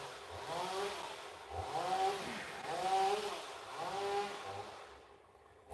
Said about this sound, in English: why is anyone chainsawing?